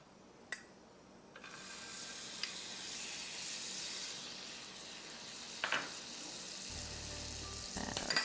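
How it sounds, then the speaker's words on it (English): Butter melting in a hot pan before searing lamb chops, a steady close sizzle and hiss that swells after a brief quiet start, with a couple of sharp clicks and a low rumble toward the end, no voices. "I'm gonna start by melting some butter in my pan."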